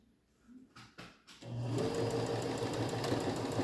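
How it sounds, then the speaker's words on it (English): A sewing machine back-stitches along the waistline of pajama bottoms; after a few hesitant short bursts it settles into a steady, close, continuous mechanical whir. "now I'm going to do the back stitch"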